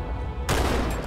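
Close, loud, continuous automatic gunfire in Halo 2 bursts in abruptly after a rumbling lead-in and keeps going as a dense rattle.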